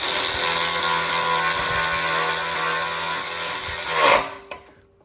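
A power tool whirs continuously while a 14mm socket drives a lug bolt during an Integra Type R five-lug conversion, running loud and steady before winding down abruptly with a short clunk.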